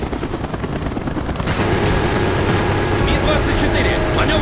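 An Mi-24 helicopter in the Call of Duty: Black Ops video game thunders steadily with its rotor roar. Gunfire and explosions from the battle sound under it and grow louder partway through.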